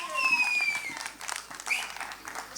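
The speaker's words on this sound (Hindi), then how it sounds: "Sunny sir के लिए एक बार जोरदार तालियां" An audience at a promotional event for the film JAAT applauds Sunny Deol, loud steady clapping mixed with high whistles and cheers throughout.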